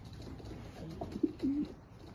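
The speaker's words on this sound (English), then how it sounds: "There they are with some of my neighbors' pigeons as well." Racing pigeons coo softly at close range, with a couple of low throaty coos near the middle over a quiet outdoor background.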